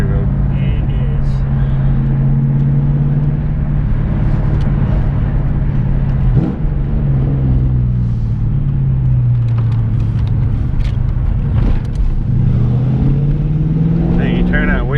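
A Ford Mustang on a back country road gives a loud, steady engine drone from inside the car, its pitch sliding up and down as it revs and shifts, with voices heard over it now and then.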